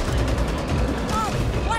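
A short stretch of continuous gunfire in the game Back 4 Blood, dense and loud, with speech heard over the shots.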